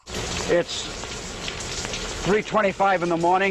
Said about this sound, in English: It's raining, obviously.